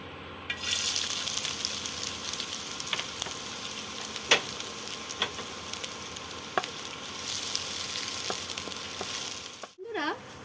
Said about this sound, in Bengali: তেলটা গরম হয়ে গেছে। এবার আমি দিয়ে দেব 2টো কুচি রাখা, ছোট ছোট করে কুচিয়ে নিয়েছি, কুচি রাখা পেঁয়াজ।